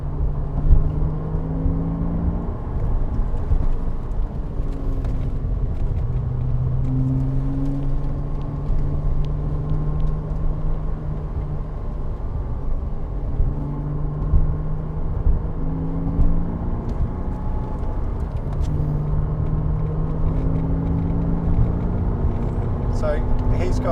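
An Audi TT S 3.2 V6 with DSG and four-wheel drive comes onto the Bedford Autodrome track, its engine note rising and falling in whirring sweeps at a distance against a steady rumble.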